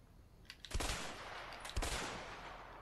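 Gunshots at a shooting range in the video game A Way Out: two sharp, loud blasts about a second apart, each trailing into a sustained echoing roar, with faint earlier taps before them.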